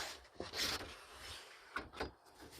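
A metal channel is fitted onto a plastic Lifetime shed panel, with close scraping, sliding and knocking of metal against plastic in a few short bursts separated by quieter gaps.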